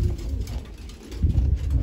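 Pigeons cooing in low, throaty pulses at a pigeon center, softly repeating with a brief lull and then swelling again near the end, with faint wind noise and no talk.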